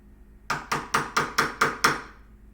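A chisel is tapped while fitting a workbench end vise, seven sharp, evenly spaced knocks in quick succession, each ringing briefly and alone in a quiet shop.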